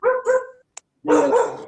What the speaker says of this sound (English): Oh, quiet now. The mad dog's here.